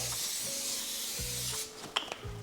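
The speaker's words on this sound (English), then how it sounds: "You must spray the bottom of your tin foil." A continuous hissing spray of cooking spray onto tin foil close by for over a second, followed by a brief rustle and a light tap.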